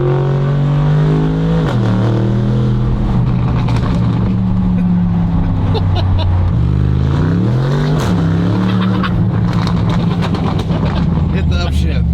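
A Bentley with its mufflers removed and a straight-piped exhaust revs hard up close, its loud engine note rising and dropping through several throttle blips and shifts while people talk over it.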